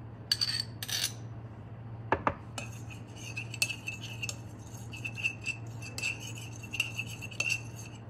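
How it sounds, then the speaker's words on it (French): Metal utensil stirring and scraping a chickpea salad in a bowl, with irregular clinks and taps over a steady low hum, several sharp knocks midway. "Je remue."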